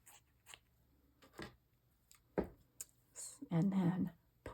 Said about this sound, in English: I am just going to cut a little bit